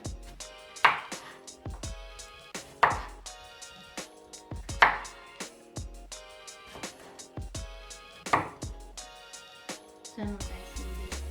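A knife chopping food on a board while preparing couscous with tiger prawns, steady rhythmic cuts in repeated bursts of quick knocks, close and clear, with occasional faint voices in the background.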